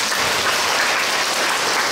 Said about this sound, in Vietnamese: Nói tới đây tôi thấy ai cũng vỗ tay hết